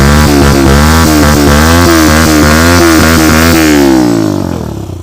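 Kawasaki KSR Pro mini motorcycle with an aftermarket exhaust revs loudly up close, the engine note rising and falling through several throttle blips before it fades out.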